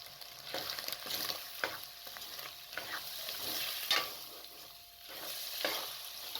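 Potatoes and cabbage with mince fry in a pan with spices, a steady sizzle running throughout while a utensil stirs and scrapes in irregular clicks, close and moderately loud, with no talking.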